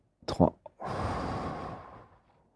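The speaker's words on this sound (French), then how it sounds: "Une respiration." Group of people in a guided session taking a deep breath together, a few short sharp inhales followed by a long, soft, breathy exhale that fades out.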